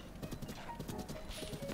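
Quick, quiet horse hoofbeats in The Legend of Zelda: Breath of the Wild clop in a steady trotting rhythm, soft and brief.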